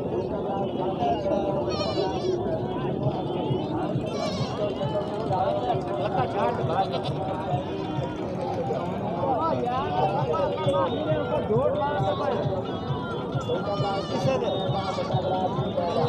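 Baby goats bleat over and over at a busy goat market in Sahiwal, Pakistan, their calls overlapping against a steady background of crowd murmur and voices.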